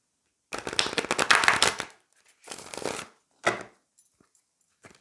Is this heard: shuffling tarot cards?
yes